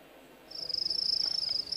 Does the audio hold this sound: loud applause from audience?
no